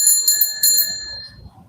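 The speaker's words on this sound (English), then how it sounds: "Maybe I should ring my bell." An e-bike rider's bicycle bell rings out three quick, bright dings that trail off into a fading metallic ring over faint road noise.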